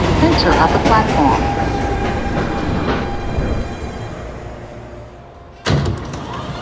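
NYC subway 1 train in a video game, Manhattan-bound: a steady rumble of rolling wheels and motor slowly fades as the train slows, then a sharp clunk of doors or couplings near the end, with an announcement voice over it.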